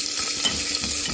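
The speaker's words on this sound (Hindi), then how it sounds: "मीडियम फ्लेम पे इसे गोल्डन ब्राउन होने तक मैं इसे फ्राई कर लूँगी।" Chopped onions with cumin and green chillies fry in oil over a medium flame, giving a brief, continuous crackling sizzle close up with no voices.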